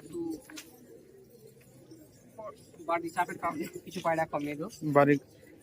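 Giribaz pigeons at a pigeon market in Murshidabad give low, repeated coos in short bursts, close by, mixed with voices talking over them.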